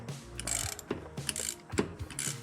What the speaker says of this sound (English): I'll let it go back into park and I'll let it click